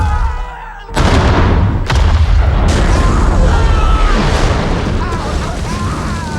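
Grenade blasts erupt in a monster battle scene: a sudden deep boom, then a second and third heavy impact, each followed by a long, rumbling roar of debris, with faint voices underneath.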